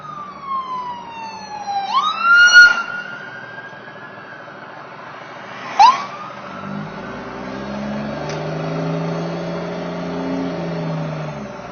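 Police car siren sweeping up and down as the vehicle passes on a road, with a loud wail early, a sharp chirp around the middle, then a steadier tone fading under engine noise.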